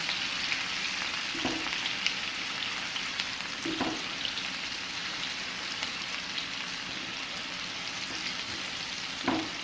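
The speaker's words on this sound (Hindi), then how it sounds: "अब साथ ही में इसमें ऐड कर दूंगी प्याज। मिक्स करेंगे और हम इसको तकरीबन 1 से 2 मिनट के लिए हम इसको फ्राई कर लेंगे" Chopped onions frying in a pan for chicken bun filling, a steady soft sizzle throughout with a few stirring knocks and scrapes rising out of it, close and even.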